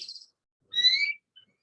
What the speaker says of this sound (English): I just want to have bird song.